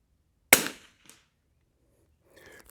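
A single sharp crack from a Savage Anschutz 54 Sporter rifle fired at a 100-yard range, loud and close with a quick decay, followed by a faint click and distant rustling.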